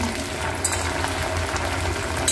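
Homemade hair oil bubbling and lightly frying in a pan, giving a steady low simmering rumble with faint crackles, continuous and close, with no voices.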